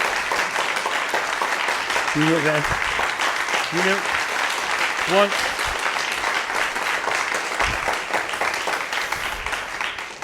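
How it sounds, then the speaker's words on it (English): Sustained audience applause after a Chopin piano performance, a steady wash of clapping filling the room throughout, with a few brief voices rising over it early on. "it's very tempting to take that applause as being about you"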